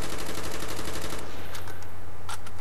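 Rapid automatic gunfire from an unsilenced weapon in a video game, a dense loud burst of rattling shots that cuts off abruptly, followed by a few scattered sharper reports over a low steady hum.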